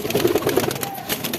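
Pigeons murmuring in a home loft in Hemayetpur, a short run of soft, low coos pulsing in a quick rhythm before fading under faint background noise.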